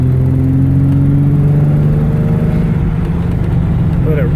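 A 1995 Ford Thunderbird SC with its supercharged engine running rough revs up, a loud close-up droning whine and rumble that climbs slowly in pitch.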